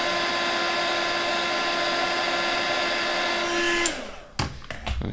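A hot air blower warms the glue on a beyerdynamic DT1770 headphone, whirring at a steady high pitch for about four seconds before cutting off, followed by a few quick clicks and knocks.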